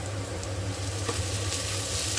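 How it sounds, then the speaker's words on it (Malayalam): Star anise and fennel seeds stirred in a hot pan for a country-style chicken gravy, a soft steady sizzle with faint scraping, quiet and continuous with no talk. "നന്നായി ഇളക്കി യോജിപ്പിക്കാം."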